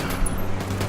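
Rapid gunfire from cartel patrols in Ghost Recon Wildlands, a dense one-second burst of overlapping shots over a low steady rumble, fairly loud and close with no talk.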